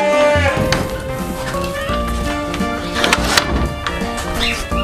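Merino sheep bleating in a farm pen, with several overlapping wavering bleats, loud and close, over a busy barn background with rustling and knocking.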